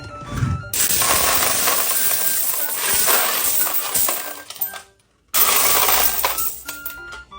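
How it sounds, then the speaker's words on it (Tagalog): Coins, including 20-peso coins, drop into a basin in a dense, continuous jingling clatter close by, with a brief pause before the clinking resumes. "Pati din yung 20 pesos coin, pwede na rin siyang ihulog dito."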